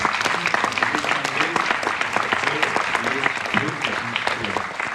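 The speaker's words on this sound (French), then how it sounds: "Je pense que vous pouvez les applaudir." Audience applause at a James Cameron press conference at the Cinémathèque in Paris, brisk continuous clapping with some voices mixed in, steady and fairly close.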